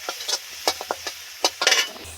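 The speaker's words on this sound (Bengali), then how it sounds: "আস্তে আস্তে অল্প তেলে নিবো আছে রসুনটা ভাজবো" Crushed garlic frying in a small amount of oil for a banana flower chop, with a light sizzle broken by several sharp scraping stirs of a spoon against the pan.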